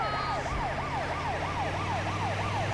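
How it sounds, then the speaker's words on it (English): An ambulance siren in the GTA 5 Rescue Mod video game wails in a steady, rapid up-and-down cycle over low road and engine rumble. It sounds continuous and moderately close. "I just gotta update the siren."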